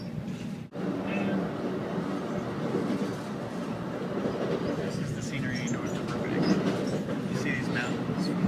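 An Amtrak train at Glendale station rolling past with a continuous rumble and faint clatter of wheels, with a voice talking over it.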